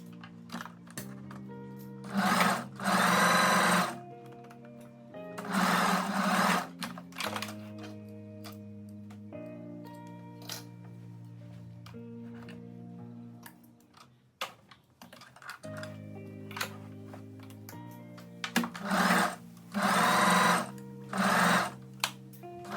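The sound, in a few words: sewing machine edge stitching a dress seam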